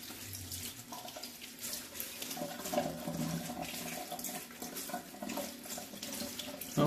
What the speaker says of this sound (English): So just give that a quick rinse under the tap.